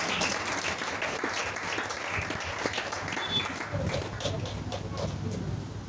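A church congregation applauds and cheers, with dense continuous clapping filling the room and scattered voices calling out over it.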